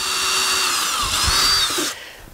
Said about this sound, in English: Drill a pilot hole through the strap into the conduit.